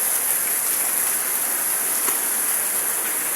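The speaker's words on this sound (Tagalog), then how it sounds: "Yan, grabe ulan. Makikita niyo ulan, no?" Dense, steady rain hisses evenly throughout, a heavy downpour with no voices and no breaks.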